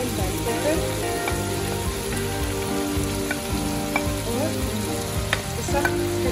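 Vegetables including green capsicum sizzle and crackle as they are stir-fried in a pan for spaghetti chow mein, a loud continuous frying hiss with scattered pops and stirring scrapes.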